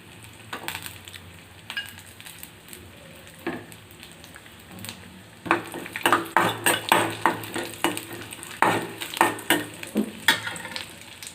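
Cashews, raisins and almonds roasting in ghee in a kadai, with clear stirring and scraping in the pan and a soft sizzle under it. It starts quietly and grows louder and busier about halfway through.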